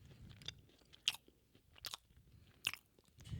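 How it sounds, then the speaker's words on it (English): Crunchy cheese nib crackers are chewed close up, with a few sharp crunching bites separated by quieter mastication. "I'm chewing."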